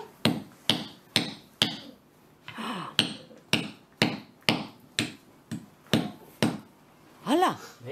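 Rock struck repeatedly with a hammer to split it apart: about a dozen sharp, close knocks at a steady rhythm, with a few brief voice sounds between blows.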